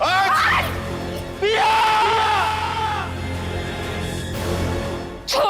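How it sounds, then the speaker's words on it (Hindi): A woman in a Hindi TV drama screams and shouts in distress. Her loud, wailing cries come close and repeat with short breaks between them. "इस हालत में इतना चीखना चिल्लाना तुम्हारे लिए ठीक नहीं है पिया"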